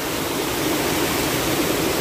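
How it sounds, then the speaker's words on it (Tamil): Water from the Aliyar dam river rushes past in a steady, loud, broadband roar, close by and unbroken, with no voices. "இங்கே பக்கத்துலேயே தண்ணி போயிட்டுருக்கு ஃபுல்லாக"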